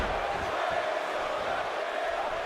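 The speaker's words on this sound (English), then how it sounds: "Now the crowd getting behind Bray." Steady crowd roar from the arena audience during a WWE 2K18 Hell in a Cell match, a continuous dense wash of cheering held at even loudness throughout.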